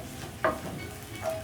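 A chopped medium onion fries in hot oil under a steady hiss, with two brief, louder stirring scrapes from a utensil close by.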